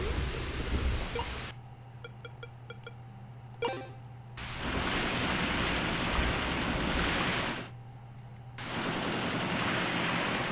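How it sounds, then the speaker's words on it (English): Steady rain hisses across the scene in the video game The Touryst, dropping away twice into quieter stretches where faint chiming tones sound before the downpour returns. "Oh no, it's still raining here."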